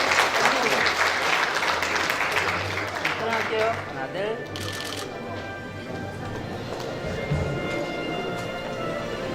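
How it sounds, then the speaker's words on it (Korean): Audience applause at a Lions Club anniversary award ceremony in a hotel banquet hall, a full round of clapping that fades, with an announcer talking over it. "여러분 박수 좀 한번 쳐주세요."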